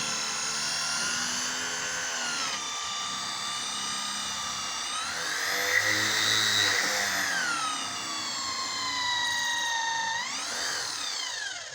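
A power tool whines steadily as it tightens a nut, its pitch sliding up and down in long sweeps over roughly twelve seconds. It is loud and continuous, with no speech.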